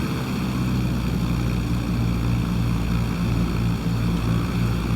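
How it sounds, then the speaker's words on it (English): A simulated airplane rolls for takeoff from Boise in MS Flight Simulator, its engine a steady, loud, droning hum that stays even throughout with no voices. "So take off, but let's go. So, all right, a little rough of a takeoff."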